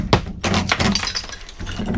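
Old shower being smashed out during a cabin remodel demolition: loud breaking and shattering crashes with glassy clinks and heavy thunks, several impacts in quick succession close by.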